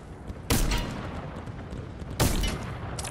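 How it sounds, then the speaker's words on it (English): A video game revolver fires two loud, sharp gunshots about two seconds apart, each with a booming low-end punch and a short decaying tail over quieter background noise. "All right, I'm just using a revolver."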